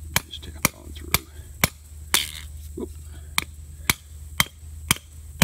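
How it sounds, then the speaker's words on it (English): Sharp metallic taps of a 3-pound hammer, anchoring down an Airstream trailer, repeat at a roughly even pace, about a dozen close strikes with brief quiet gaps between them. "I guess about a 3-pound hammer."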